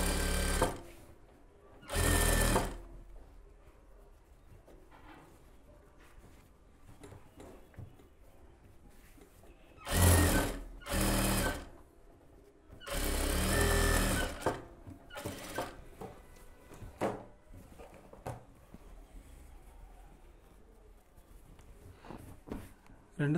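Sewing machine stitching the border of a puff sleeve, with several short rapid whirring bursts of stitching between pauses, close up, while a person talks.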